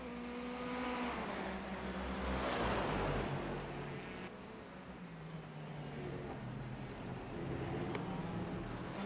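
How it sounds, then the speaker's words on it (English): Race cars in a sim racing game at Circuit Gilles-Villeneuve coming through turns 6 and 7: engines sweep up and down through gear changes, a passing roar swelling and fading, faint and without talk. "Cars now coming through turn 6 and 7 now onto a very tough traction zone"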